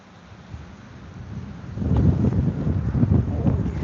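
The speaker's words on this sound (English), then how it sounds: "It's getting rather windy." Wind buffets the microphone in low rumbling gusts that grow stronger partway through, outdoors at a street protest in Dublin, Ireland, with no voices.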